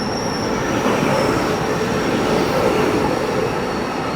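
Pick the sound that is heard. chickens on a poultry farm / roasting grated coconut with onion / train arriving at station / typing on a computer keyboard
train arriving at station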